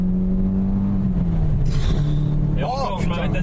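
A Peugeot 306 S16 engine revs and drops through quick gear changes on its short gearbox, with people talking over it inside the car.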